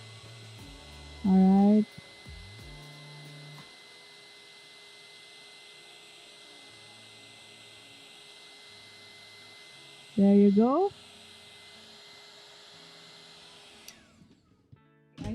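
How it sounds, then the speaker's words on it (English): A heat tool runs as stamped card is heat embossed, giving a steady electric blowing hum through the whole stretch. A person speaks briefly twice over it. "I'll just heat emboss first"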